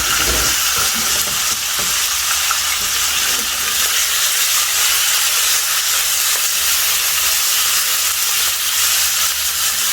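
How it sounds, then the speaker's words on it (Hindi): Chicken pieces frying in hot oil in a pan, giving a loud, continuous bright sizzle and hiss with occasional spatter, steady from start to finish with no talking. "चिकन को हमें ऑयल में जो है थोड़ा फ्राई कर लेना है जब तक इसका कलर चेंज नहीं हो जाता।"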